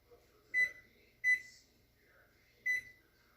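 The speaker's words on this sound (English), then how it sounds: "And let's put the timer here." A kitchen oven timer gives three short, sharp electronic beeps at uneven intervals as it is set, close and clear against near silence.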